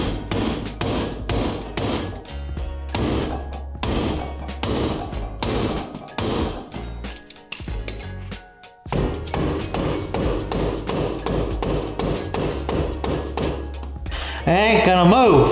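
A hammer whacking a tie rod on a Mk1 Volkswagen Jetta, loud close metallic blows in irregular runs of repeated strikes with short pauses, ending in a brief squeaky scrape.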